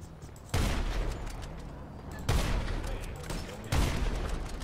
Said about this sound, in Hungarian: Most ki kell lőnünk pár embert ott